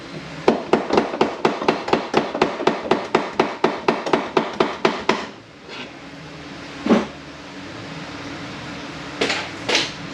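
A pump is prised out of a Ford 4R70W transmission with a heel bar against a bolt, about twenty steady metallic knocks in a fast even rhythm, then quiet with a few scattered louder clanks.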